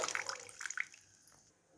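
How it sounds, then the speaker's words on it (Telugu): Water poured onto roasted rava in a pan for upma makes a quiet hissing splash that fades away within about a second. "ఇలా వాటర్ యాడ్ చేసేటప్పుడు సౌండ్ వచ్చిందంటే బాగా వేగినట్లు అనమాట"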